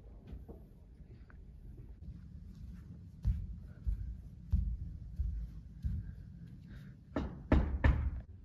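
Knocking on a door inside a school: a few scattered knocks separated by pauses, ending in a quick burst of louder raps against a quiet room background.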